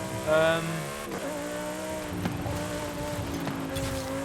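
Lamborghini Huracan EVO engine in Forza Horizon 5 humming and revving, with a sharp rise at the start and then a steady drone with faint clicks.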